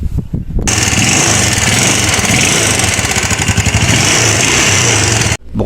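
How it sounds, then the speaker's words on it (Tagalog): A worn motorcycle engine runs loudly and continuously up close, its piston knocking against a scored cylinder wall to give a rough, rapid, rattling beat that stops abruptly near the end. "doon na po tayo makakarinig ng knocking sound na tulad nito"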